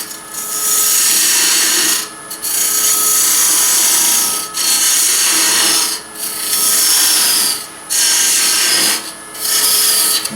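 On a woodturning lathe, a tool makes a parting cut into a spinning wooden lidded ring box, loud close scraping and hissing in repeated bursts of about two seconds separated by brief pauses.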